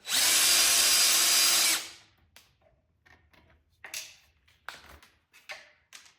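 A power driver removes a number 4 screw and washer from the chain slide shoe of a 2025 Ducati Panigale V4: a loud, steady whir for about two seconds, then it stops, followed by faint scattered clicks and taps of parts being handled.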